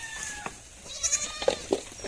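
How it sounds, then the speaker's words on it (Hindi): A herd of goats feeding on neem leaves in a goat-rearing setting, with soft scattered bleats, munching and rustling at moderate distance, quiet overall with a few brief louder calls near the end. "सारी बकरियां खा रही हैं"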